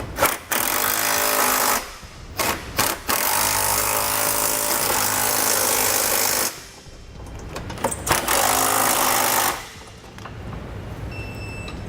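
A power impact tool loudly hammers trailer hitch bolts tight on a 2008 Subaru Forester, firing in long buzzing bursts separated by brief pauses and a few short rattling blips.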